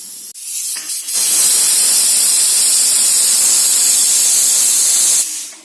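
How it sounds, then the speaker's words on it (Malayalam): Pressure cooker with chickpeas and salt on the stove letting off steam: a few brief sputters, then a loud, sustained hissing whistle that holds steadily for about four seconds before cutting off. "കുക്കറിൽ കടല ഉപ്പിട്ട് പുഴുങ്ങാൻ അടുപ്പ് വെച്ചു ഒരു വിസിലടിച്ച് കഴിയുമ്പോൾ"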